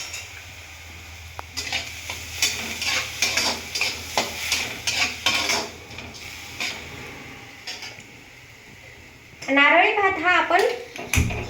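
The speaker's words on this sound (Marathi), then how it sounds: "आता आपण हे जे तांदूळ घेतलेले होते ते आपण त्यात तापून घेणार आहोत" Repeated scraping and stirring of drained rice in a pan with a soft sizzle, followed by a brief louder burst of sizzling near the end.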